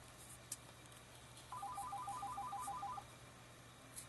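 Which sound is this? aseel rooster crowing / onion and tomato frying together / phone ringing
phone ringing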